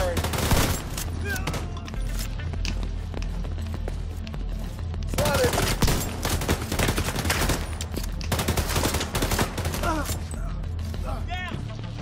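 Rapid automatic gunfire bursts in the video game The Division 2, loud and repeated throughout with short pauses between volleys, mixed with game music and effects while players talk over it.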